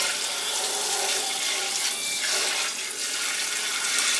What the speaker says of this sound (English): I'm just going to spray this down with warm water and let it sit here for a while